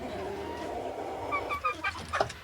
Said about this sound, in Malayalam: ഞെക്കട് നെക്കാണ് കാപ്പിരി പുള്ളി കാപ്പിരി എന്നും പറയും കോഴി എന്നും പറയും